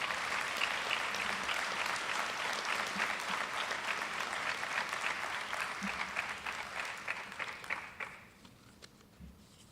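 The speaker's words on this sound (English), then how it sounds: "Give them a round of applause." Banquet audience at a high school athletic awards night applauds steadily for an outstanding athlete award, a dense even clapping that carries for about eight seconds before tapering off abruptly to quiet room tone.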